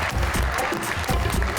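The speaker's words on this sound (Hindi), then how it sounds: "मेरे सेकंड शेफ के लिए बहुत सी तालियां" Studio audience applause for the second chef on a talk show, a steady wash of clapping filling the short stretch, fairly close and even.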